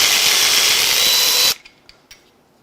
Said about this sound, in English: Trying to be careful not to get my ratchet stuck.